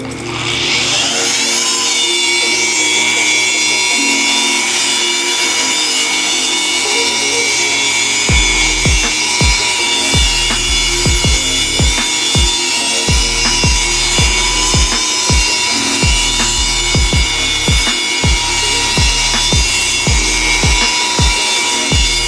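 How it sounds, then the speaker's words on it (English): A rotary polisher with a wool pad buffs the paint on a Toyota 4Runner. It gives a continuous high whine, and after a few seconds a run of rhythmic, rapid scuffing strokes sounds close and loud throughout. "let's get the wool pad on the rotary and see what we can do"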